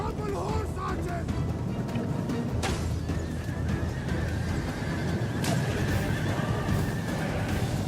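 Horses neigh and whinny amid a mounted battle on the steppes in Total War Rome II: Divide Et Impera, with horse archers in the fray. Dense, continuous clamor of hooves and combat fills the background, and a voice talks over it.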